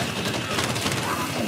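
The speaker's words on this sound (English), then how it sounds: "Sentry gun on the roof. He's only shooting you." A rooftop sentry gun in Crime Boss: Rockay City sprays a dense, continuous burst of gunfire, crackling rapid shots packed tightly together at steady loudness across the short span.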